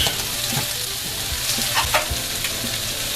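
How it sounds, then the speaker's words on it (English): Vegetables and potatoes for a potato lentil stew sauté in a pan over slightly lowered heat, giving a steady close sizzle broken by occasional scraping and clinking as the pan is stirred; no one speaks. "let that saute for a couple minutes"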